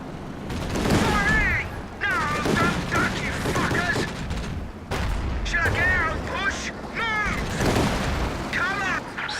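Bursts of gunfire and booming artillery in the World War II strategy game Company of Heroes, rapid shots and explosions in clusters, with shouted soldier voice lines throughout.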